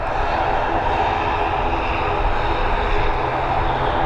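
Aer Lingus Airbus A320 jet on the runway at Dublin Airport, a loud, steady engine roar that holds constant throughout with no voices.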